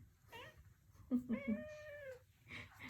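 A cat meows clearly a couple of times up close, with soft background noise around it.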